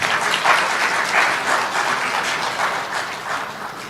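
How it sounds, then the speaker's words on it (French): An audience at a year-end ceremony for foreign students in Béjaïa applauds warmly, a full, continuous rain of clapping that swells slightly and then tapers toward the end. "Applaudissez pour eux, s'il vous plaît."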